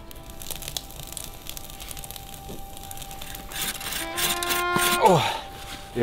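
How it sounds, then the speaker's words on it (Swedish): Rough wooden rasping and scraping as firewood is sawn by hand in a forest, steady strokes under murmured voices, growing louder with a few sharp knocks and creaks toward the end. "nu sitter alla grabbar och sågar och hugger ved"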